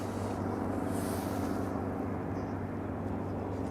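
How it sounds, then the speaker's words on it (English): A steady low rumbling drone of a helicopter passing overhead a parking area in Snohomish, Washington, continuous and fairly distant, with no voices. "Helicopter."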